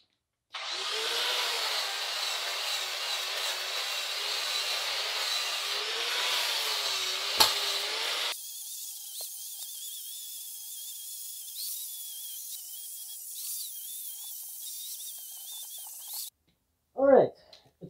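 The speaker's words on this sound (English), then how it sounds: "I'm going to use my angle grinder with a wire brush attachment, and that's going to do a really good job of stripping the paint" An angle grinder fitted with a wire brush strips paint from a basement wall, a loud steady whining scrape that runs for about sixteen seconds, shifting pitch partway through, then cuts off, with no talk over it.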